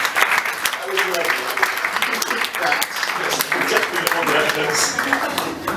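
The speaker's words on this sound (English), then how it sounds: "Give him a big round of applause." Audience applause at a live comedy show in Birmingham, a steady round of clapping with cheering and voices layered throughout, fairly loud and continuous.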